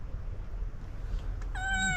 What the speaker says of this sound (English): he sort of talks to it and goes meow meow meow meow